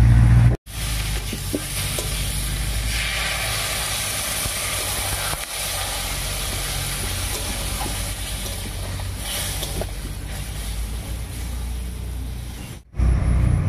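Water poured into a pan of pointed gourd and egg curry sets off a loud, sustained sizzle and steamy hiss that runs nearly without break, cutting off sharply at the start and near the end.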